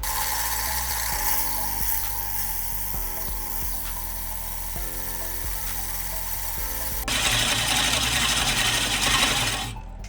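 A manual reel mower being backlapped with paste, run slowly in reverse, makes a steady whirring, grinding drone with a faint rhythmic ticking that continues alone and brightens near the end.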